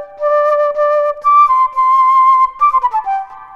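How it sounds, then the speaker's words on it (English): Solo flute playing a short melodic phrase of sustained, breathy tones with a few note changes, clear and close, with no talking over it. "My instrument is the flute"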